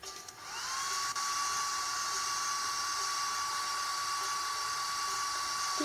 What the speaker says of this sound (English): Then you gotta turn on the blow dryer.